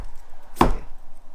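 A knife slices a vegetable lengthwise in a home kitchen, one crisp cut striking the board partway through, close and distinct against a quiet background.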